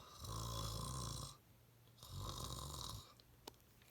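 A person imitates a bear's snoring with two long, loud, close snorts separated by a brief pause, followed by a faint click.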